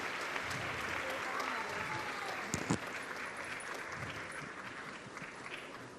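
Loud, sustained applause from a crowd at a traditional purification ceremony in Tenejapa, Chiapas, where a staff of command is formally handed over. It stays steady for several seconds with a brief sharper burst midway, and voices are mixed in.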